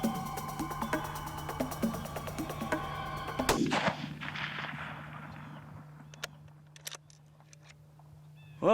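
A single rifle shot fired at a predator during a hunt cracks loudly at mid-clip, followed by a fading rumble and a steady low hum with faint clicks afterward.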